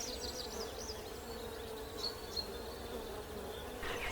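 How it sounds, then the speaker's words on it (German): Steady buzzing drone of a swarm of hundreds of aggressive African bees, constant and fairly close with faint passing whines of individual bees, no voices. "während es von Hunderten afrikanischer Bienen, den feindseligsten Bienen der Welt,"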